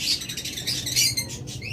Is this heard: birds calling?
yes